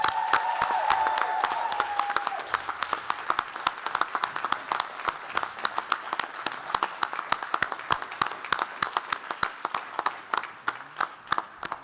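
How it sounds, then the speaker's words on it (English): At the Grand Rapids Community College 2021 commencement, the graduating class applauds. Dense, steady clapping from a large crowd carries on without a break for about twelve seconds. "give yourselves a round of applause."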